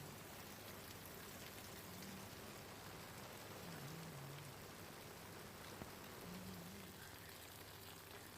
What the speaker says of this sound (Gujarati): અણિયાળી, કેરિયા અને ધારપીપળા કિનારાના વિસ્તારોમાં વરસાદ વરસી રહ્યો છે।